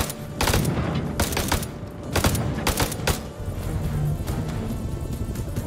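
Gunfire in the horror game House of Ashes, several sharp shots and short bursts spaced a second or so apart over a steady rumbling, noisy background, loud and close.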